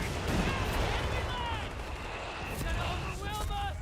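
Mortar half-tracks firing in the Company of Heroes 3 strategy game, repeated distant thumps and crackling gunfire beneath a busy battle, with people talking over it.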